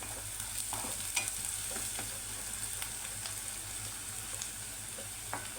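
Onion fries quietly in a pan with a soft, constant sizzle, broken now and then by faint spatula scrapes and taps.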